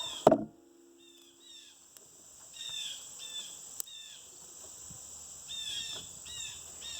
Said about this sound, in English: hear all the blue jays. They're very noisy this morning.